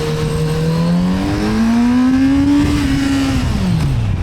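A Kawasaki Z900RS SE motorcycle engine pulls up through the revs with a loud, smooth rising tone that holds, then drops away as the throttle closes, heard close with no talking.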